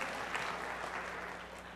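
A lecture hall audience claps together in steady, dense applause that holds throughout, fairly loud and without speech over it.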